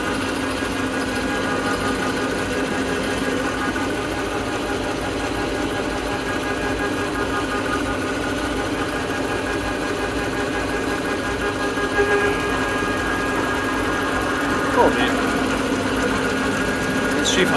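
A diesel injection pump with sticking delivery valves runs at high speed on a test bench, making a loud, continuous mechanical whir with rapid ticking throughout and a couple of brief clicks near the end.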